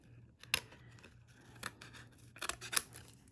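Faint, close snips of scissors cutting around a sea turtle shell, four or five separate cuts spaced unevenly over a quiet background hum.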